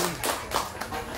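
A few loose hand claps at a rural Vietnamese wedding in Tra Vinh, three or four separate sharp slaps spread over about a second, close by, with a voice faintly underneath.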